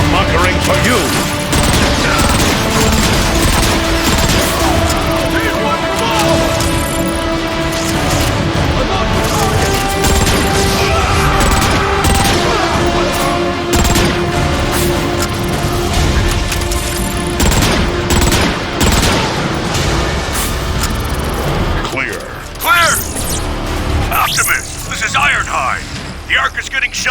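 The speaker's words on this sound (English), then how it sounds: "The Ark is getting shelled pretty bad by those warp cannons." Warp cannons shelling the Ark in Transformers: Fall of Cybertron, a loud, continuous barrage of booms, crashes and rapid gunfire with mechanical clatter.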